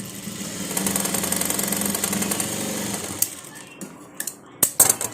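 A sewing machine overlocks the shoulder seam of a crop top, running in a steady dense whir for about three seconds before slowing and stopping, with a few brief clicks and taps of handling fabric at the end.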